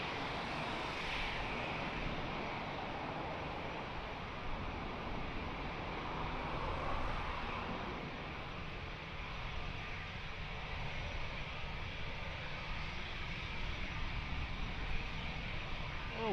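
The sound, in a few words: Hawker jet aircraft landing at Lisbon Airport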